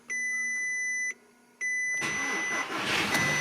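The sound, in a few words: Audi A3 engine cranking and starting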